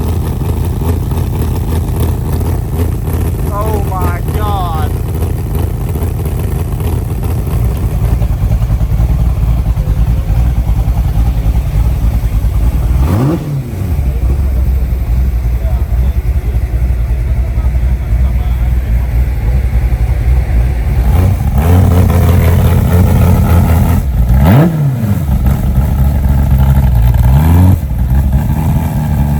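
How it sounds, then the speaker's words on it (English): A loud, rough sports-car engine with individual air filters idles close by in Manila, Philippines, hard enough to shake the door, punctuated by a few sharp revs, with a brief exclamation over the rumble. "It's idling so hard that the door is shaking."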